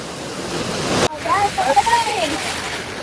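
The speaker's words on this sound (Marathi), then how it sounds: "हा बघा तो धबधबा." Subhedar waterfall in the monsoon, a steady broadband rush of falling water that cuts out briefly near the one-second mark and resumes, with voices and shouts faintly over the roar.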